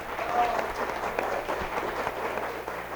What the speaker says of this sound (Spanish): les pido un aplauso para Jorge, que se fue, y para María Gracia.